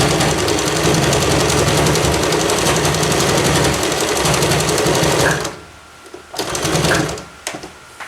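A sewing machine runs continuously as it stitches a reinforcement across the seam of a jungle hammock. It then stops, followed by a couple of short bursts and quieter handling.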